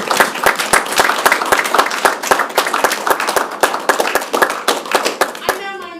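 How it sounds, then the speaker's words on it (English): A round of applause fills a school board meeting room, many hands clapping steadily and loudly for several seconds before fading out at the end. "I'd like to do a round of applause"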